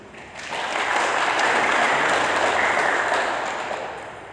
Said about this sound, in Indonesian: Boleh nggak kita tepuk tangan untuk Tuhan Yesus?